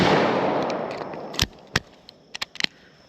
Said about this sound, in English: Pulled that second shot.